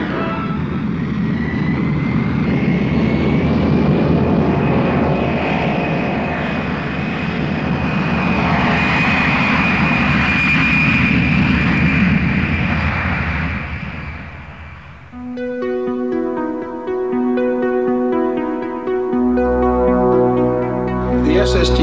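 An airplane drones steadily in a broad, loud roar with a thin high whine, then gives way to sustained tonal chords near the end.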